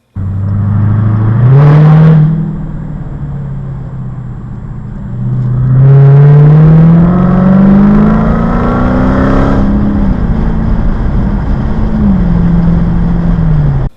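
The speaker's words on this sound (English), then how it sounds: "the Ferrari was not down to play at all. He just wanted to speed off quickly and get away from me" A Ferrari accelerating hard away, its engine loudly revving up through rising gears with sweeping pitch climbs and shifts, heard close from inside a following car with steady road rumble throughout.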